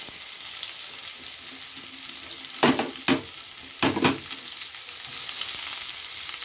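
Chopped onion frying in oil with cardamom, cinnamon, cloves, bay leaf, dried chilli and cumin, a steady close sizzle broken by a few louder bursts of stirring and scraping midway, with no voices.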